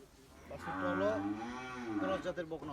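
A single long, drawn-out crossbred cow moo, loud and close, rising and falling in pitch before trailing off.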